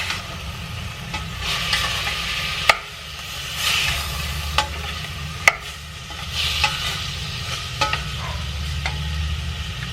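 Ingredients frying in a pan for sinigang soup, a soft steady sizzle with a few sharp utensil clicks and scraping stirs, close by, over a low background hum and without talk.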